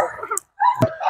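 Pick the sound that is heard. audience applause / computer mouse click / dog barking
dog barking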